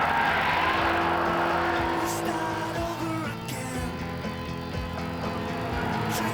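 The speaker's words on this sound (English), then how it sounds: "It's got a lot of oversteer, this car." A rear-wheel-drive car oversteers and skids around a track, engine roaring steadily with tire squeal rising over it, close and loud throughout.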